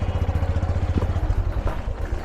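A motorcycle engine runs steadily up close along a rough dirt forest trail into a cave area, a rhythmic low throb with clattering over the whole stretch and no talk.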